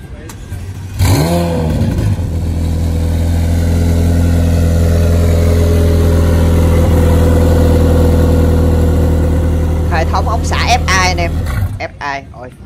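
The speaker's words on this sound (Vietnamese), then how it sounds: "Nổ máy thử anh ơi, nổ máy thử nha." A pink supercar's engine fires up with a sharp bark, then settles into a loud, steady idle with a deep, even hum. The engine shuts off near the end, and brief talk is heard just before it stops.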